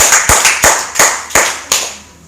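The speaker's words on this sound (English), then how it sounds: "Everybody's clap gave sound." A church congregation clapping together in rhythm, about six sharp, loud, evenly spaced claps with short echoing tails.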